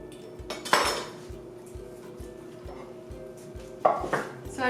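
A knife cuts through pineapple on a platter with repeated clacking and tapping, including a couple of louder knocks, close and clear with no talk.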